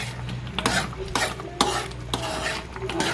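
A pot of pasta sauce cooking at a rolling boil for a simple birthday meal, with a soft bubbling sizzle under repeated scraping strokes of a spoon stirring at a steady rhythm, all fairly close.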